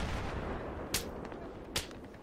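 Battlefield 3 gunfire, two sharp distinct shots cracking about a second apart over a steady low rumble of battlefield noise.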